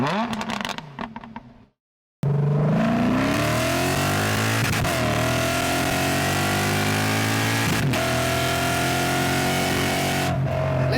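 A 2007 Lexus IS F sedan's V8 engine roars loud and close in a long, steady high-rev drone with shifting pitch, after a short burst of other sound and a brief silence.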